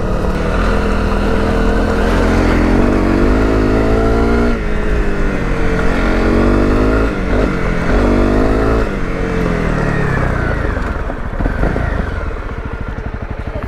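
Honda CRF250 Rally off-road motorcycle engine running loud and close throughout, its pitch climbing and falling through gear changes as the rider stands on the pegs, with revs dropping away near the end.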